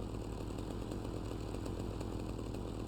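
Chainsaw from the video game GTA Vice City, its engine droning steadily and loudly with a buzzing rasp, heard alone.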